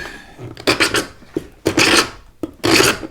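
A hand scraper rasps stripped paint off poplar wood during antique furniture refinishing, several loud, rough strokes in a row, each a harsh grating pass with short pauses between.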